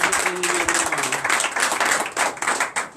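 A church congregation claps and applauds for Jesus during a Christmas morning prayer service, a dense, steady patter of many hands lasting throughout, fairly close and full.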